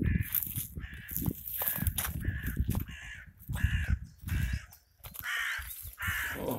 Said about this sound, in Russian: Ох, что-то вороны, воронье